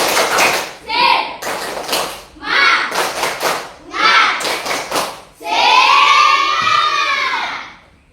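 Schoolchildren in a classroom clap out a rhythmic cheer in bursts, with sharp grouped claps and loud chanted voices between the pauses, ending in a longer sustained shout.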